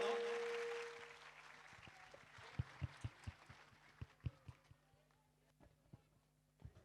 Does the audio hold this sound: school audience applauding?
yes